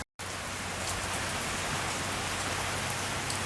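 Steady, heavy rain pours in New York, a dense, continuous hiss of drops hitting surfaces that starts abruptly after a brief silence and stays loud throughout, with no voices.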